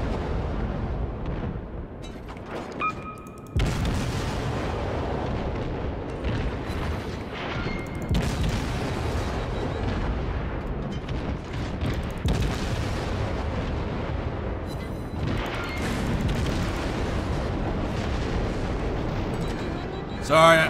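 Cruiser guns fire repeatedly in World of Warships naval battle gameplay, heavy booms landing at irregular intervals over a constant rumbling din, with a player talking over the action.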